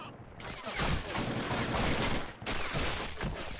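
Dense covering gunfire in Men of War Assault Squad 2, a US convoy ambush scene, with overlapping rifle and machine-gun bursts rattling almost continuously, loud and close, with a brief break near the middle.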